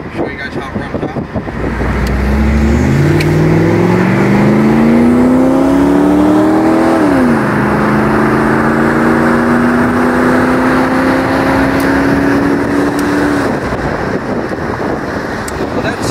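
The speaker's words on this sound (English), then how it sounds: "We'll take it up here and run it through the gears a little bit." A 1991 Pontiac Trans Am convertible accelerating hard through the gears, its engine note climbing, dropping at a shift, then climbing again, loud and close with wind rushing over the open car.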